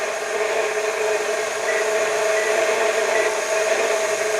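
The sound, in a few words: KitchenAid medium stand mixer kneading bread dough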